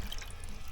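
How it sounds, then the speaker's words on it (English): Flush of a narrowboat toilet at the press of a button, a short, steady wash of running water that fills the brief moment, fairly quiet and heard alone. "Press of a button, flush, which is really good."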